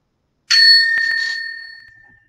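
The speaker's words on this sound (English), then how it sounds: "The bell will be ringing again." A single bright ding of a small timekeeper's bell at a debate competition rings out clearly, then sustains and slowly fades over about two seconds.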